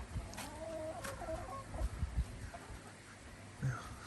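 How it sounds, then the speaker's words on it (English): A backyard chicken near a koi pond filter gives a few soft, scattered clucks against quiet outdoor background noise. "There's the chicken."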